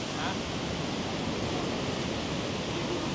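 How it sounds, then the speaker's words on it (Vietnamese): A mountain stream roars through a rocky ravine at Y Tý in Lào Cai, Vietnam, a steady, dense rush of water that stays close and unbroken throughout. "Chảy ầm ầm ào ào luôn."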